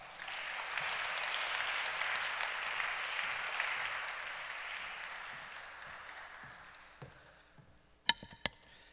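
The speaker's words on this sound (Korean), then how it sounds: "우리 큰 소리 크게 박수로 환영하도록 하겠습니다." An audience at a Korean church event gives sustained applause to welcome a speaker to the stage. The dense clapping holds steady for about seven seconds, then fades, leaving a few sharp knocks or taps near the end.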